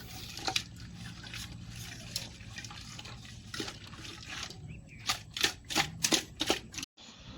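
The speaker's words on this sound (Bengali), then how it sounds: "মাছ ধোয়া ধুয়ে চলতেছে এখন" Water splashing and trickling as rohu fish pieces and a large head are washed, with a steady run of wet splashes and sharper pours clustering toward the end, close and moderately loud.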